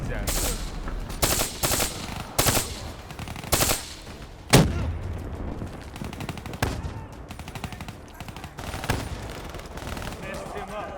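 Gunfire in Girls' Frontline, with repeated loud bursts of automatic fire separated by short pauses and one sharp heavy blast midway, all set against a constant background of combat noise.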